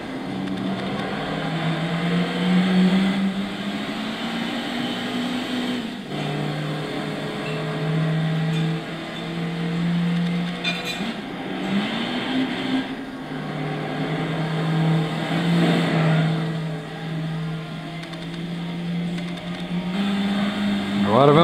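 Toyota Celica SS-II 2-litre 16V rally car in Gran Turismo 6 racing on a dirt stage, its engine note rising and falling steadily through gear changes and slides, with someone talking over it throughout.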